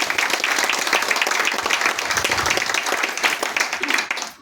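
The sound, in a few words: audience applause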